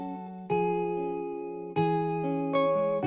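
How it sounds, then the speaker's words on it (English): Sustained harmonic Ample Sound virtual guitar chords with a gritty, warm RC20 vinyl-style distortion and a light reverb tail, changing at a few points across the passage. "the RC20 is giving it more of that kind of like vinyl distortion sound with a little bit of reverb"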